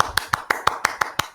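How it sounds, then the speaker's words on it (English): A few hands clapping in a steady, evenly spaced rhythm, about eight sharp claps, close and fairly loud. "Round of applause for everybody."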